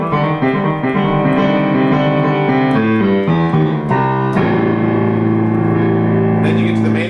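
Piano intro to a song, a bluesy run in A descending to a low octave on A, played loud and close with rolling notes and a sustained final chord.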